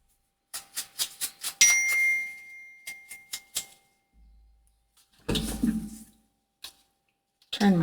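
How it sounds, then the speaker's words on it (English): Several short bright dings from a phone notification ring out in quick succession in a quiet room, followed by a few softer clicks and a brief louder rustle, with no talking. "Turn my phone off so we don't have the dinging going on."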